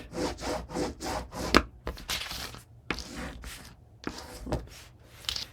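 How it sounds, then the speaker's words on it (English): Bone folder burnishing the hinge of a paper mini album cover, quick dry rubbing strokes in short bursts, close and fairly quiet, with no talk. "I'll burnish again the hinge."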